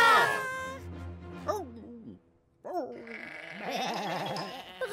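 Cartoon sheep bleat in a few wavering, high-pitched calls. Some sound like a voice imitating sheep, and a brief silence falls midway.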